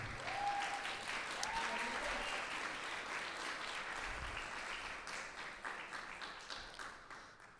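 A church congregation applauds in honour of Jesus during a sermon, a sustained wash of many hands clapping that holds steady and then gradually tapers off, somewhat distant in a large room.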